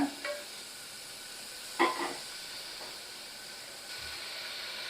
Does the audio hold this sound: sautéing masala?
yes